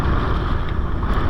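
Strong wind roars across the open sea around a small fishing boat, a loud, steady broadband rush with low rumbling buffeting and no voices.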